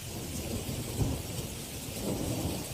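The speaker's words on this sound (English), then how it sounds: "From blinding blizzards across America's heartland, you can't even see down the dang street, to flashes of thunder snow" Thunder snow rumbles during a blizzard-driven winter storm in Kansas and Missouri, a deep, continuous low roll layered with dense wind and precipitation noise, moderately loud and steady.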